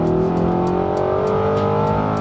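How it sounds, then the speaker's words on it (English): Audi R8 fitted with a titanium exhaust revving steadily, a loud, close engine note holding a continuous rising drone for the whole stretch, with no talk. "It sounds like a thunderous V8."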